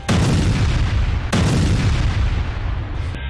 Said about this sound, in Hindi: एक के बाद एक कई टारगेट को निशाना बनाती सुपरसोनिक मिसाइलें और पल भर में तबाह होते सैन्य ठिकाने